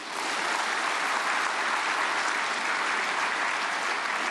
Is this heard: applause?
yes